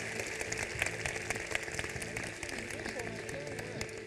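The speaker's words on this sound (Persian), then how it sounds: "دوستان رو تشویق کنه" An audience in a room claps together in a steady patter of many hands, with a few sharper claps standing out, and voices murmur faintly underneath.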